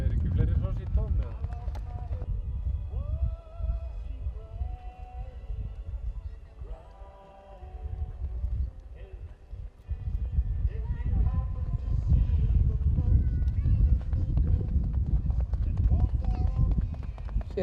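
Icelandic horses' hooves at an A-class horse show, Andvari 2011, beating steadily under an announcer's voice over a loudspeaker, with crowd and arena noise throughout.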